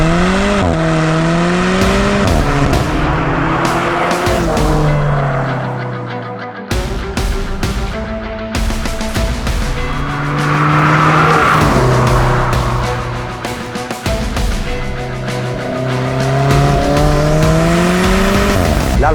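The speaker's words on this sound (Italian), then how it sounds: "Questa è l'Alfa Romeo 4C." An Alfa Romeo 4C coupé with a 1750 TBI turbocharged inline four-cylinder engine, 240 hp, drives hard, its engine revving up and down through repeated gear changes with tyre squeal, loud and close throughout.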